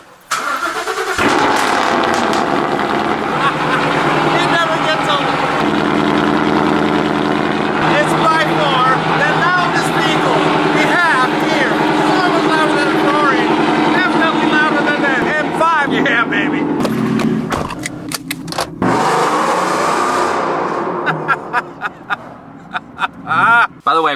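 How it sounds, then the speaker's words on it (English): A Ford F-150 truck cold-starts with a loud crank and a sudden roar that settles into a high, steady idle, then the engine note shifts and drops near the end while voices talk over it. "what we haven't done in a long time is a cold start on the F-150"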